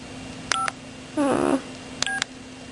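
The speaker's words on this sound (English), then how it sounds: "So some of the ringtones I'll just show you." A mobile phone plays short electronic tones: two brief beeping bursts bracket a warbling melodic snippet, fairly clear and close, with no talking over them.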